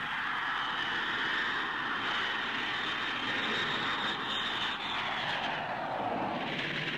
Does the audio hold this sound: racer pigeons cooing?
no